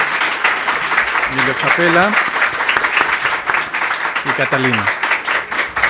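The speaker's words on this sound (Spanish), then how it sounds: "Les pido un aplauso, por favor," Audience applause at an academic seminar session for its speakers, steady and dense throughout, with a voice speaking over it twice.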